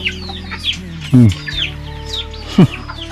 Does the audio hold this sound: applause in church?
no